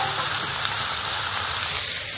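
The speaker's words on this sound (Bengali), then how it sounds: "একটু গ্যাসটা জোরে দিই, তেলটা ফুটে গেছে" Hot cooking oil sizzles steadily in a pan over a gas flame, a dense, continuous hiss that stays close and loud for the whole moment with no talk over it.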